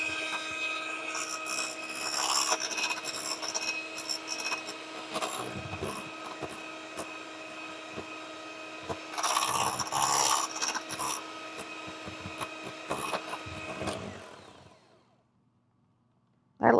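Whipping cream for an old-fashioned Southern butterscotch pie, an electric mixer whirs close and steady with rattling, scraping surges as the beaters move through the bowl, then cuts out and falls silent near the end.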